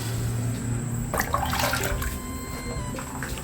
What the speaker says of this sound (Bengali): এখানে আমি এখন জল দিয়ে দিচ্ছি, জলটা অনেক বেশি করে দিব